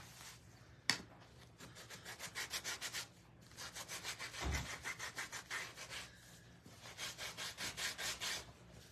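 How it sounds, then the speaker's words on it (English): Sandpaper rubs back and forth on a small wooden Christmas tree gnome in quick, rhythmic strokes, soft and close, with a brief knock near the start and short pauses between runs. "I am going to sand him up just a tad"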